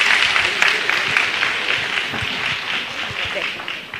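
A seminar audience at a Seoul education office training session at the 2023 EduPlus Week future education fair breaks into sustained applause after a teacher's presentation, many hands clapping steadily and fairly close for several seconds.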